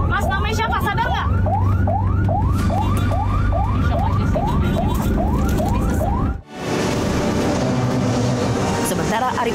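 Ambulance siren wailing at a street protest, a loud repeating rising whoop cycling about a dozen times up close before cutting out, then crowd noise and voices fill in.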